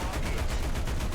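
A tank's machine gun fires at aircraft in War Thunder, a steady rapid stream of shots with regular pulsing bursts, loud and continuous over a rumbling battlefield background.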